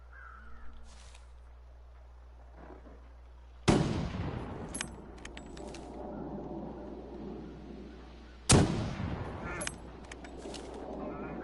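Two sharp gunshots in the survival video game The Long Dark, fired at a bear, ring out several seconds apart, each with a decaying echo over faint background ambience, with crow caws between.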